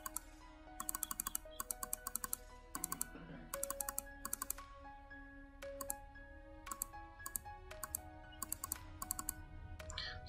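Quick bursts of keystrokes clatter on a computer keyboard while AutoCAD commands are typed in, irregular clicks and taps close and clear with short pauses between runs.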